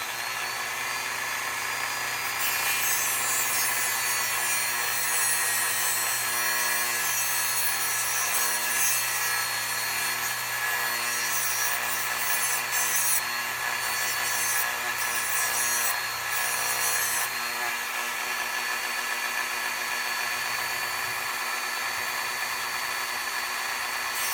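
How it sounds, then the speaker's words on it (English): A continuous high-pitched whine of a Dremel rotary tool with a small sanding disc grinding and sanding, loud and steady, with the pitch shifting as it bites into the material. "That Dremel, a little sanding disc on it."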